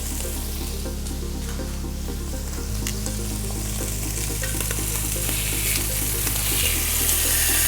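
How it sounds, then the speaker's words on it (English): Top sirloin steak sears loudly in a hot pan, a steady, close sizzle that runs unbroken throughout with no voices. "make sure you get that really nice sear on it"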